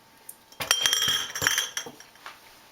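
Glass regular-mouth pint canning jars clink against each other several times in quick succession, bright and close, with scattered knocks of glass on glass and no talking.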